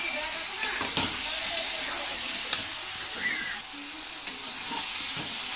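A bean curry with salt, turmeric, chili and chopped onion sizzles and fries in a pan, a steady soft hiss broken by occasional clicks and scrapes of stirring, with no talking.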